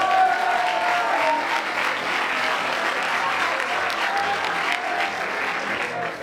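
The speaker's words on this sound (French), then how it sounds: "Donne-moi pour les applaudissements." An audience applauds steadily, a dense wash of clapping that holds for several seconds without talk.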